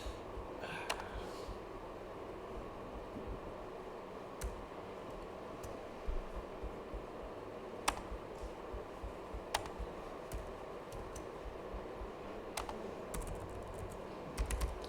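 Someone types on a computer keyboard, producing soft, irregular key clicks with a few sharper taps over a quiet background hum.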